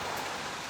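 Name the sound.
rain falling outside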